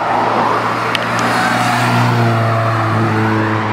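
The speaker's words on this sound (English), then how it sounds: "Wait, the Ferrari pista." A Ferrari Pista supercar driving away, its loud engine holding a steady, close, sustained roar throughout with no speech.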